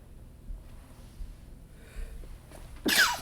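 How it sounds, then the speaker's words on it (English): A person gives a single loud, sharp sneeze at close range after a few quiet sniffing breaths. "I'm going to sneeze"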